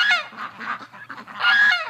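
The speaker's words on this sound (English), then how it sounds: "Oh, we got a goose fight." Geese honk loudly and repeatedly in a goose fight in a winter pen, with a big gray gander driving off a white goose. Harsh calls overlap in bursts near the listener.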